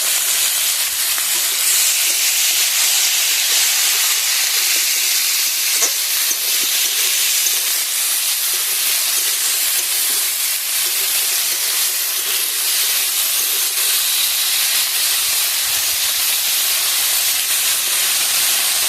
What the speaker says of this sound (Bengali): একসাথে সবজিগুলো ভেজে নিচ্ছি